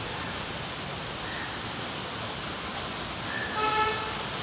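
Steady rain falls as a soft, even hiss, with a distant vehicle horn tooting briefly near the end.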